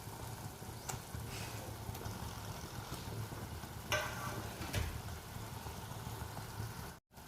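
Eggplant frying in oil with a black masala, village style, giving a steady low sizzle throughout with a few brief clinks from stirring near the middle.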